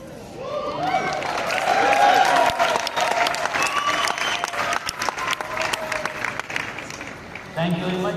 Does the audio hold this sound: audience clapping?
yes